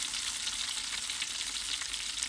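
Ginger-garlic paste fries in hot cooking oil for a village-style Hosakote biryani, giving a dense, continuous close sizzle that crackles evenly throughout with no voices.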